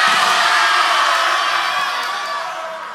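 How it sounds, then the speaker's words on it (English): A school crowd at a team gauntlet event screams and cheers, a loud sustained roar of many voices that slowly fades over a few seconds. "Let me hear your scream."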